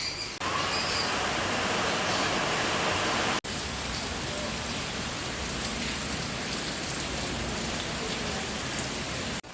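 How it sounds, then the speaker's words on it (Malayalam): Boiling water poured into a pot of chicken curry for puttu, a steady loud splashing hiss across the whole stretch, briefly cut off near the middle before the pour resumes. "ഇനി കുറച്ച് തിളച്ച വെള്ളമാണ് ഒഴിച്ചു കൊടുക്കുന്നു."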